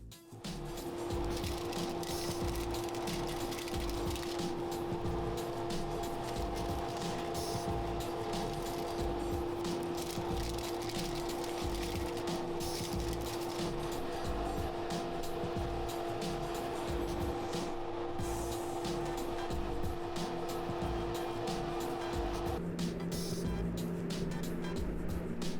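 Continuous loud roar of a workshop dust collection system with its openings capped, a steady whooshing drone with a constant hum that shifts in tone near the end.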